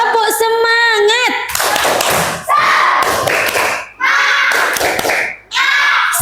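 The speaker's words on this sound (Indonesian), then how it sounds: "kita tepuk semangat dulu ya" A fifth-grade classroom of children chants together and claps out a rhythmic spirit cheer. Sung voices come first, then bursts of loud group clapping repeat in close, energetic sets.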